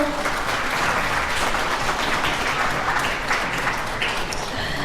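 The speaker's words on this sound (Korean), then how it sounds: "다시 한번 큰 박수로 함께 해주십시오." Wedding guests applaud steadily at a ceremony in a hall, a dense, even wash of clapping from a sizable crowd with no voices standing out.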